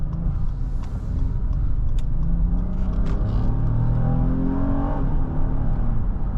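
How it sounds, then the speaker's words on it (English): A 2019 Acura MDX Sport Hybrid's gasoline engine hums steadily from inside the cabin while driving, a continuous low rumble that swells slightly as it accelerates. "The engine sounds pretty good."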